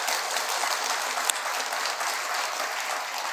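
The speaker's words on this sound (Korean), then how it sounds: "여러분 큰 박수 한번 주세요." A Buddhist dharma assembly congregation claps for the abbot, senior monks and temple office staff, a few seconds of dense, even applause from the crowd with no talking over it.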